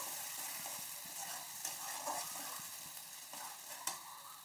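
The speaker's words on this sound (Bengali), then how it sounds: "এটা ভালো করে কষিয়ে নেব" Spicy egg paneer curry being stirred and sautéed in a pan, a steady soft sizzle with scraping spatula strokes and a few louder clinks, no voices.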